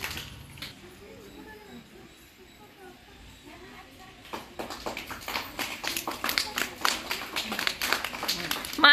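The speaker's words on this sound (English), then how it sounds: "Claps." Children clap at a children's day celebration, a brisk run of sharp claps that starts after a quiet spoken stretch and grows louder toward the end, with voices mixed in.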